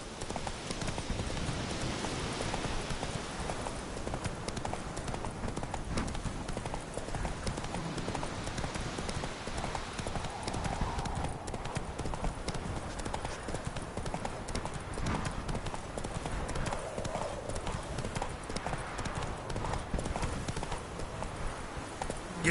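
Horse hooves clip-clop in a steady, continuous rhythm, fairly close and moderately loud, with a soft rain-like hiss underneath throughout.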